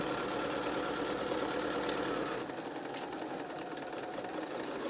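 A sewing machine runs steadily while stitching a fabric mask, a close, loud, continuous mechanical whir that eases slightly midway without stopping, and no one speaks.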